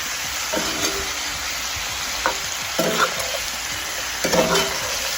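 Scallops and shrimp sizzle loudly in a pan for a seafood fettuccine Alfredo, a constant bright frying hiss broken by several spaced scraping strokes of a spoon stirring through the pan.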